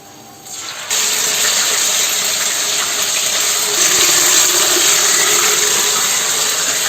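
Ginger garlic paste dropped into hot ghee gives a sudden loud, steady sizzling hiss that starts after a brief quiet moment and carries on without pause, close and continuous.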